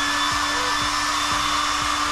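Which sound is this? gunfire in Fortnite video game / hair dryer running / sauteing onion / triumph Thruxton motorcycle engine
hair dryer running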